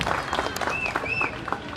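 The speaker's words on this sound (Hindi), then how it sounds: "हाजी साहब ने जोरदार तालियां" Dense, steady applause from an audience at an office opening ceremony, with a couple of rising whistle-like tones cutting through the close, continuous clapping.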